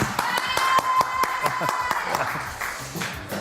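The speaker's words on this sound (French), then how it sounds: "on applaudit très fort Kelly" A TV-show audience claps for the performer Kelly: sharp, separate handclaps in a quick irregular rhythm with a thin tone and some voice running beneath, fairly close.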